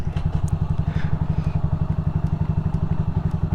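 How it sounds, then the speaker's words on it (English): A Templar X dirt bike motorcycle idles nearby with a loud, steady low thumping rhythm of engine pulses and slight mechanical clatter. "I'm gonna go ahead and get the Templar X out"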